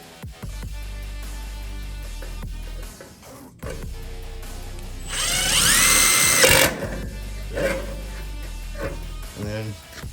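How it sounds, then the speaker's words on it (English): A power drill driving a self-tapping screw into a taillight bucket tab on a Mazda B2200, a loud whirring burst midway between quieter handling noises and a closing short buzz, with a voice talking at times. "go ahead and screw that in. Little self-tapper there"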